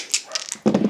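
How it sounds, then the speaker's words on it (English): A dog barks downstairs in a house, the yaps muffled and distant, then a burst of clearer, louder barking at the end. "Do apologize about the dog barking downstairs if you can hear that."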